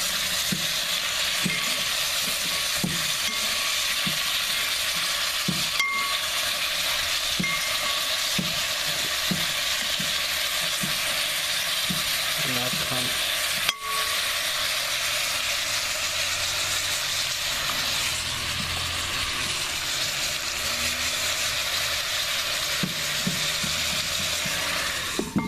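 Oxtail potjie stew is stirred in a cast-iron pot over the fire, giving a continuous bubbling sizzle with repeated scraping strokes of the spoon and one sharp knock partway through.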